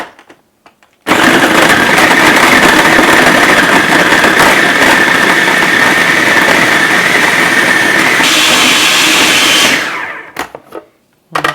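A food processor whirls Medjool dates for about nine seconds: a loud, steady motor whine that starts abruptly, holds, shifts slightly near the end and spins down to a stop, with no talking.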